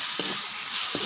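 A pot of banana stem and banana flower kootu simmers with a steady, loud, close hiss. Soft bubbling pops rise through it, and no voices are heard.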